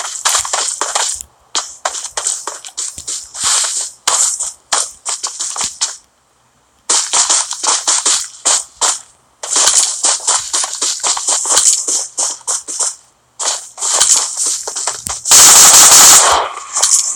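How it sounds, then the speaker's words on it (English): Automatic gunfire in the mobile game PUBG Mobile, loud close bursts of rapid shots in long rattling runs broken by short pauses, with a brief harsher burst near the end and no talking. "I hear bullets and movement."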